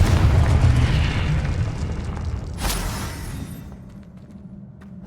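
A Confringo fire spell bursting in Hogwarts Legacy, a loud roaring explosion that rumbles and crackles, with a second sharp pop midway before the blast fades into quiet.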